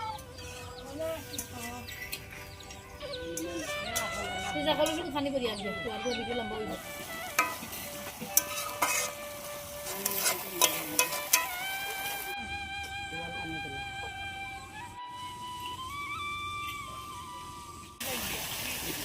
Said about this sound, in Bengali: চুলার আঁচটা একটু কমিয়ে আমি মাংসটা ভালো করে কষিয়ে নিব।